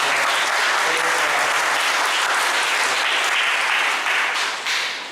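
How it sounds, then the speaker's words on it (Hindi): A church congregation claps loudly at a Sunday evening service, a dense, sustained round of applause that stays even for about five seconds before tapering slightly. "तो क्यों ना हम उस परमेश्वर के लिए और आराधना के लिए जोरदार ताली बजाएं।"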